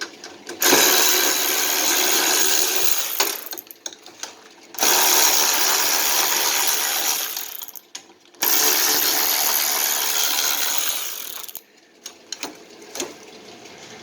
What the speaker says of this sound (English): Put a 3/8 Craftsman to work. It's working perfectly fine.